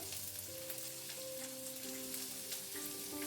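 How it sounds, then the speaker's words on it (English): White peas with ginger, green chilies and coriander leaves sautéing in a pan, a faint steady sizzle under a low held tonal hum, brief and quiet. "Green chilies and coriander leaves. Saute for 2 or 3 minutes."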